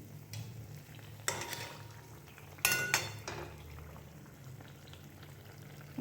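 Mango malpua batter frying in oil over a low flame, a soft steady bubbling sizzle with two louder bursts of spattering and a light clink of a utensil.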